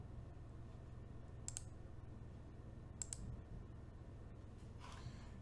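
Two quick pairs of mouse clicks, close and distinct, stand out over a steady low hum while saving a FITS file in Astro Pixel Processor, with one fainter click just after.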